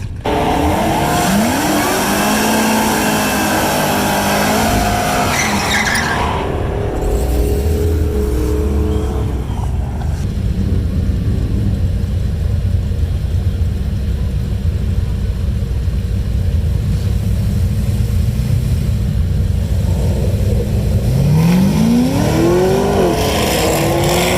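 A drag race car revs hard and launches at a Rocky Mountain drag strip, a loud, close engine note climbing in pitch and then fading down the track, with a second roaring pass building near the end.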